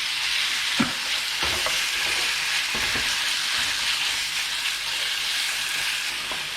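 Loud, continuous hiss of beef sizzling in a pan oiled with vegetable oil, punctuated by irregular scraping knocks as it is tossed and stirred.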